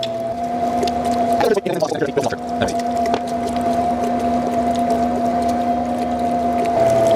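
A meat grinder works through lean sausage meat for smoked maple sausage, giving a steady, loud motor hum with a constant tone and brief uneven crunches and clunks as pieces feed through. A voice is faintly present.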